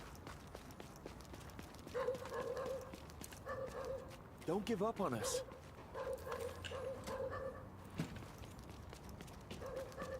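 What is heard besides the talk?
dogs barking in the video game The Division 2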